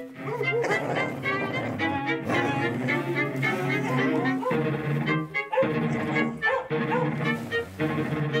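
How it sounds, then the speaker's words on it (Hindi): Dogs barking in a scene from a dubbed Hindi horror film, yips and barks layered into a dense, loud mix with dramatic background music throughout. "अपने डॉग्स भी वही देख करके भौंक रहे हैं।"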